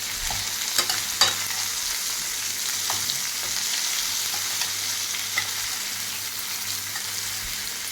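Turmeric is stirred into a pan of brinjal, drumstick and raw mango for an Andhra sour stew, with a continuous close sizzle of cooking and a few light clicks of a spoon at the start.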